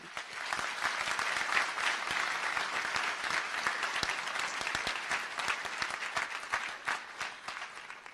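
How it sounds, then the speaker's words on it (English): A large audience at a St. George's University commencement in Grenada applauds steadily, dense clapping filling the space without a break, loud and sustained throughout. "let's give a large round of applause to you"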